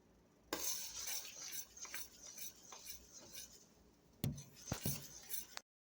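A spoon stirs boiling peach jelly in a pot, giving soft repeated scraping and bubbling close by, with a few sharper clinks against the pot near the end.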